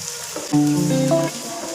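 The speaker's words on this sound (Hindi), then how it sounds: "मैं चिकन डाल दूंगी और चिकन को भी 6 से 7 मिनट के लिए फ्राई करूंगी" Chicken frying in a pan with garlic and onion for biryani gives a short, close burst of sizzling and stirring lasting under two seconds.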